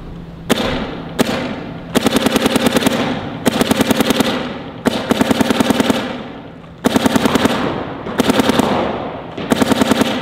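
A DLX Luxe X paintball marker fires downfield in rapid, crisp ropes of shots, loud and close, in about eight quick bursts separated by short pauses.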